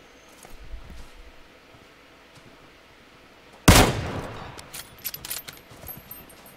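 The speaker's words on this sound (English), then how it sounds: "I'm just shooting their tires out." A single loud gunshot burst aimed at vehicle tires in the video game PUBG Mobile, followed by scattered clinks and rattles, over a quiet background.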